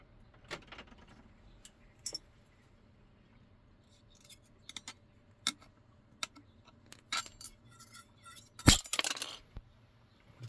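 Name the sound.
cutting homemade lemon strap in the center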